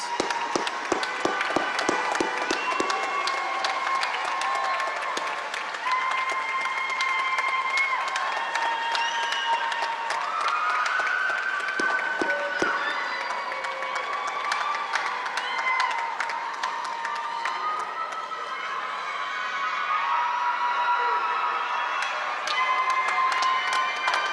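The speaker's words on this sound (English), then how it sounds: "A loud round of applause for our graduates." A large crowd at a university summer commencement breaks into sustained applause and cheering, dense clapping with whoops and shouts filling the hall steadily for the full stretch.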